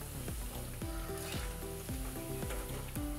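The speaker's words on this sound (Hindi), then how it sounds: "इसी तरह से सारे पकौड़े को फ्राई कर लें।" Mustard flower pakoras deep frying in hot oil, giving a soft, continuous bubbling sizzle with faint rhythmic tonal swoops behind it, fairly quiet and without speech.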